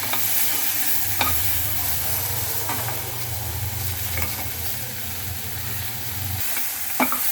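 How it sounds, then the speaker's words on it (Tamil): Onion, tomato and bottle gourd sautéing for chutney make a continuous sizzle in a pan. A few sharp spoon scrapes and taps sit on top of the frying, close up and with no voices. "இந்த வெங்காயம் தக்காளி வந்து வெந்து வதங்கிடுச்சு"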